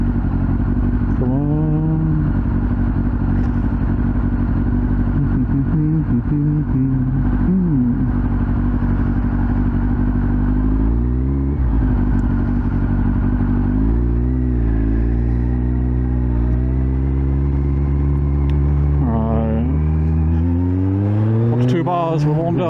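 Kawasaki ZZR 1400 motorcycle engine running continuously, loud and close, with repeated revving rises and falls in pitch over a deep steady rumble throughout.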